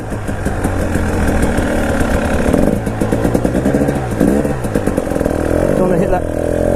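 A 2019 KTM 300 EXC TPI two-stroke dirt bike engine runs steadily close by on a muddy trail, its low throbbing note rising and falling slightly throughout, with a person talking over it.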